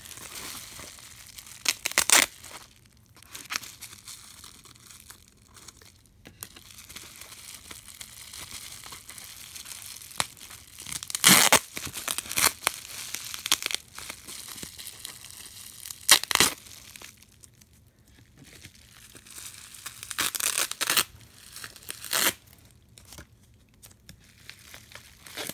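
Duct tape rips off a package in short, sharp tearing and crinkling bursts scattered across a quiet room, close to the listener.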